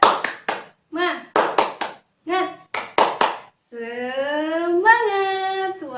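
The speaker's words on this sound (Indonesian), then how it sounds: "Tepuk semangat." Children in a fifth-grade class perform a rhythmic 'tepuk semangat' clapping chant, sharp grouped claps in a patterned beat alternating with short spoken syllables, ending in a drawn-out sung word.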